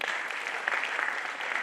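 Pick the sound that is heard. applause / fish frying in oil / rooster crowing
applause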